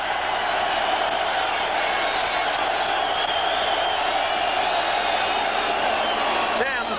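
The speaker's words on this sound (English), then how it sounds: "They are close to the crowd, and they'll hear this crowd" A dense stadium crowd roars without a break at a 1988 New York Giants at Philadelphia Eagles football game, a steady wash of noise captured through a thin, dated broadcast feed.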